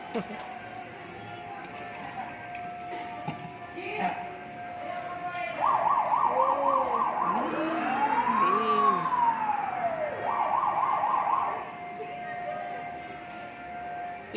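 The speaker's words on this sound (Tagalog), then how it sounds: "Fire truck oh." A fire truck siren wails at moderate distance, alternating quick yelping bursts with a long rising-and-falling sweep over background traffic noise.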